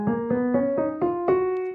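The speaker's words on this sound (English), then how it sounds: "I just played a major scale" Seven rising notes of a major scale played one after another on a keyboard, beginning on a black key, each tone clear and evenly spaced before the last one fades out.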